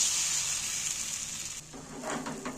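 Batter sizzles as it spreads in hot oil in a pan, a steady close hiss with a brief stirring scrape near the end.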